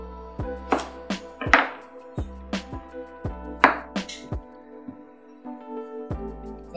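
A kitchen knife chops through eggplant on a cutting board in a home cooking setting: a series of sharp, close, irregularly spaced thuds and crunches, about a dozen strikes, with no talking.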